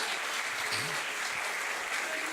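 A church congregation applauding loudly, a dense and steady wash of clapping that fills the whole stretch without pause.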